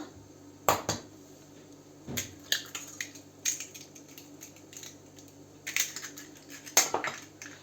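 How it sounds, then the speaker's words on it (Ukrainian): An egg is cracked against a bowl while mixing batter for a Spartak layer cake, several sharp clacks and taps of shell on the rim and clinking dish sounds, close and fairly quiet with no talk. "беремо е, вбиваємо одно яйце сюди"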